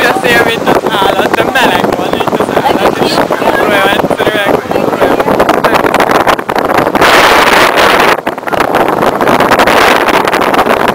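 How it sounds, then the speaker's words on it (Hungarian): Strong wind blowing across a boat deck buffets the microphone with loud, roaring gusts that barely let up, and a voice talks briefly underneath near the start. "Úgy a szél, mint az állat"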